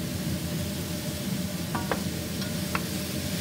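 Vegetarian mixed glass noodles with tofu stir-frying in a pan, a continuous sizzle with a few light scrapes and clinks of the utensil, close by and without voices.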